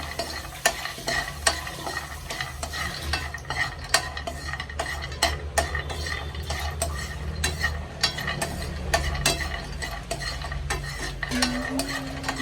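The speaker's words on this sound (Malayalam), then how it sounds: "ആദ്യം ഒന്ന് 1 കൈ ബദാം വറുത്തെടുക്കാം" Almonds dry-roasting in a pan on the stove, stirred continuously with a spoon, giving repeated scraping strokes and sharp clicks over a soft steady sizzle, close and clear with no talk.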